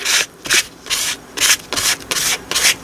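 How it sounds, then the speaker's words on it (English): A card scraping clear painting medium across a surface, with short, rhythmic rasping strokes, about six close, fairly loud passes in under three seconds, heard alone. "And then also let's just scrape some on with a card."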